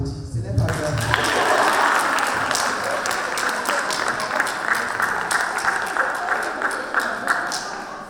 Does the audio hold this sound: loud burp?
no